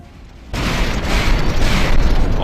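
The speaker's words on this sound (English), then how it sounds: "Now watch the Constantia get blown to pieces." A ship blown up in the video game From the Depths: a sudden loud boom that swells into a sustained, rumbling roar of explosions.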